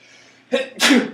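A single sneeze, a short inhaled buildup followed by a loud, sharp burst, close by and otherwise quiet.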